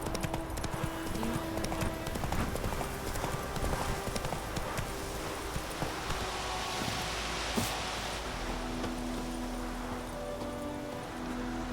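A horse gallops along a road in the video game The Witcher 3, its rapid rhythmic hoofbeats steady and close throughout, with faint ambient rustling behind.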